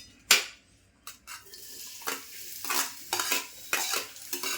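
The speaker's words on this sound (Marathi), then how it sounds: "तेल तापलं की आपल्याला कांदा टाकायचा." Finely chopped onions stirred in hot oil in a kadhai, a series of sharp metal scrapes and clanks with a light sizzle building between strokes, close and fairly loud.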